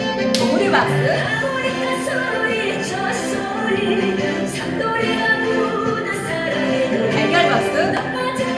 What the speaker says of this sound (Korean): 봉우리 박수.